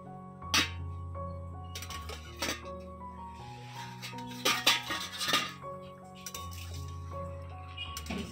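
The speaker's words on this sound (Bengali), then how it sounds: "এবারে ঢাকনা তুলে নিচ্ছি" A lid lifted from a pot of bitter gourd cooking on the stove gives a few sharp metallic clinks and clatters over a steady low kitchen hum.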